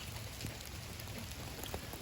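Steady rain falls outdoors around a small fire of fatwood lit in the wet, giving a continuous soft patter and hiss at low level with occasional brighter drops, no voices.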